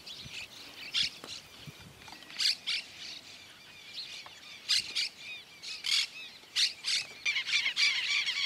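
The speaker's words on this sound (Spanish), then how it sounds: "los tordos renegridos, las torcasitas y otras aves aprovechan las semillas y granos que caen de los comederos para alimentarse" Shiny cowbirds, doves and other birds feeding around dairy farm corrals in rural Santa Fe, Argentina: a busy mix of squawks, chirps and short calls at close to middle distance, with no talk.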